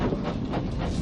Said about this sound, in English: When Thomas chuffs happily across the stone bridge